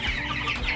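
Meat chickens out on pasture cluck in a short, close, lively burst of overlapping calls with no talk.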